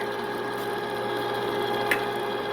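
A Cabela's Carnivore 1/2 HP electric meat grinder runs with a steady, even motor whir that holds throughout, close and unchanging, with one brief faint tick near the end and no voices.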